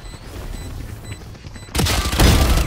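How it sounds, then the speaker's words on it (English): A Brimstone bomb grenade bursts in Valorant, a sudden loud blast near the end after faint quiet game ambience with small tonal beeps, the boom rumbling and crackling for about a second. "Bomb grenade."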